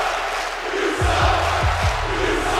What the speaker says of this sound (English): Crowd booing Jay Pierce.